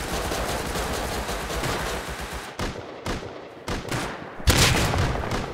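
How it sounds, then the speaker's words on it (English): Shotgun blasts and heavy gunfire in a video game ring out as dense, loud bursts, broken by a few short gaps, with a sharp, especially loud shot near the end. "one shot to the fucking head with a shotgun"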